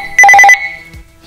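A Uniden XDECT 8355+2 digital cordless phone gives a short electronic ring for an incoming call, a rapid trill of four tonal pulses lasting under half a second, loud and close, then silence.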